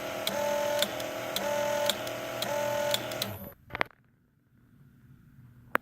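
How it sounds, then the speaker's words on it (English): A thread spool winder whirs steadily while winding a spool, a close mechanical hum with light periodic ticks that cuts off abruptly after about three and a half seconds, leaving near silence and a couple of faint clicks. "now I'll put it back together and we'll actually wind a spool"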